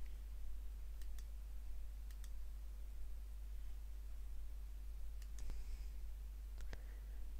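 Faint mouse clicks come in spaced pairs over a steady background hiss, sharp and close but quiet.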